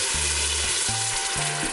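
Water poured into a hot Instant Pot after browning onion, garlic, ginger and spices for a Vietnamese chicken and giblet stew gives a loud, steady sizzle with bursts of low bubbling hiss, close and alone.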